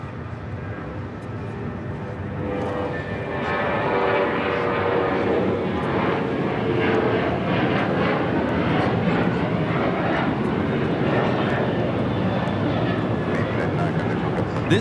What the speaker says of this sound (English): This takeoff is American Airlines 1899 taking off to Indianapolis on the 737-800